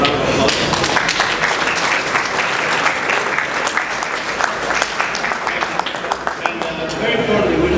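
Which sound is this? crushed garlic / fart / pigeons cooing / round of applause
round of applause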